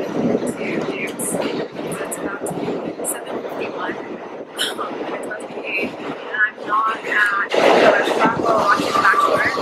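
Steady rumble and rattle inside a moving train, with a busy mix of mid and high noises rising toward the end, and some faint voices in the carriage.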